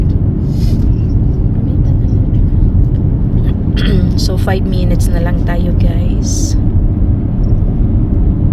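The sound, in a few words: rush hour road traffic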